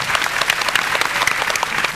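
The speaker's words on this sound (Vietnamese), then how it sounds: "Một tràng pháo tay nữa dành cho tổng đạo diễn Diệp Tiên, anh đã vượt thác ngoạn mục." An audience at a live comedy show applauds, a dense steady burst of clapping filling the whole moment, close and lively.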